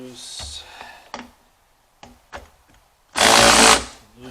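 A tool working on clamps under the hood of a 2000 Ford F250, heard as short clicks and taps followed by one loud, close burst of power-tool whirring, with a person talking in between.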